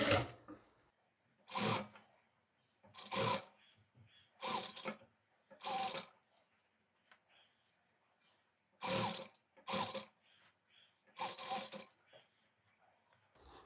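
A sewing machine stitches a Sabyasachi-style blouse in short separate bursts, about nine quick runs of whirring needle noise with quiet pauses between them, recorded close up.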